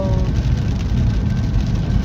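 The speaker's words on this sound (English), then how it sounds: "It is raining. Not pouring too bad, but it is raining out here today." Steady rain falls outside a car driving down a tree-lined road under a gray sky, a dense, continuous wash of patter and road rumble close by with no talk.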